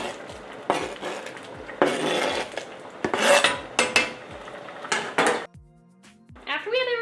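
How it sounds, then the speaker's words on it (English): A utensil scrapes and clatters against a pan in irregular strokes as chicken, rice and diced tomatoes are stirred, with occasional clinks, and a voice speaks at the end. "we're just gonna stir it up a little bit"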